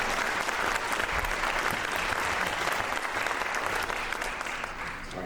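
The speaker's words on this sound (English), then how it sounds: "So big round of applause for all those folks that help keep us there." A large audience claps steadily at a high school jazz night, dense applause sustained at full strength for several seconds before easing slightly toward the end.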